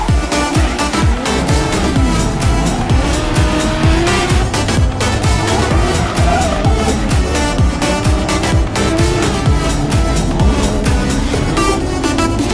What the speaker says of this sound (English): So we're making about 550 horsepower in the Supra, and with a professional driver, about to go completely nuts.